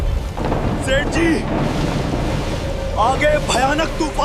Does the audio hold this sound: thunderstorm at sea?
yes